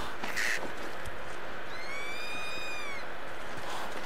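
Crows cawing in the video game Days Gone, one drawn-out harmonic call standing out in the middle over a steady wash of ambient game noise, with no talk.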